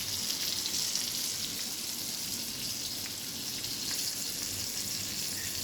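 Pomfret fish fries on a flat tawa just after being flipped, making a soft, even hiss of sizzling oil that holds steady and fairly faint throughout, with no voices.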